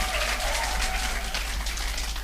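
A crowd at a meeting applauds and cheers, a dense, steady wash of clapping that carries on throughout, with voices mixed in beneath it.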